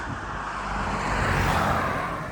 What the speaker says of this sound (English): Let's let this car go.